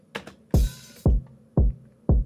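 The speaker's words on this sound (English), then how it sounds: "Then I added this real crash, which is on top of the kick every 4 bars." A real crash cymbal on top of the kick in a dance pop track: four heavy, evenly spaced kick thumps, with one bright, washy crash struck alongside the second kick that rings for about half a second.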